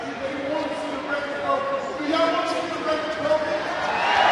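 Arena crowd at a strongman elephant bar deadlift event roaring and cheering in a sustained, swelling wash of noise, with a commentator talking over it throughout.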